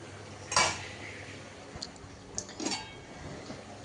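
A pot lid is set onto a cooking pan in a home kitchen, giving two short metallic clatters about two seconds apart against a quiet background.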